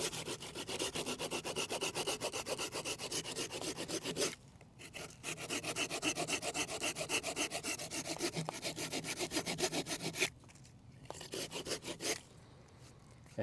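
A knife saws back and forth into a wooden log to cut a notch about an inch deep on each side, a steady close rasping scrape in long runs broken by two short pauses, with no talking.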